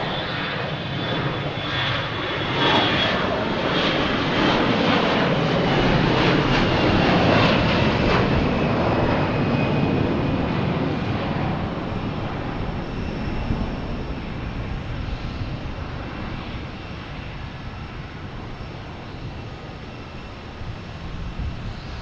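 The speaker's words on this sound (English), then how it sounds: "next taking off is a A321 Delta heading to Detroit" A Delta Airbus A321 jet takes off at Boston Logan, bound for Detroit, its engines a loud, sustained roar that swells early on and then slowly fades as the aircraft climbs away, with faint wind buffeting the microphone.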